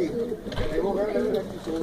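A large black pigeon in a loft coos in low, throaty, rolling phrases, close and clear, with someone speaking Spanish over and around the calls.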